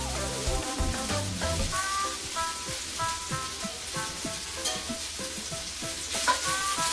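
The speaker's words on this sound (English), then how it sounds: "So we'll caramelize these carrots. Carrots are cooking. Gizzards are cooking." Sliced carrots and turkey gizzards caramelizing in a pan give a soft, steady sizzle close by, with frequent light clinks and scrapes of a utensil stirring, and a brief low tone at the start.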